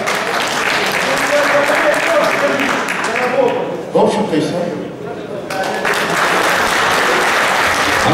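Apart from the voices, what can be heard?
audience applause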